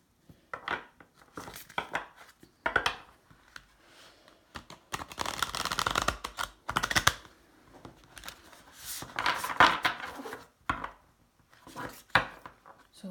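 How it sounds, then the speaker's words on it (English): Someone shuffles a deck of tarot cards close up. Crisp riffling and slapping bursts come in irregular clusters with short quiet gaps between them, and nobody speaks. "So I'm going to shuffle the cards."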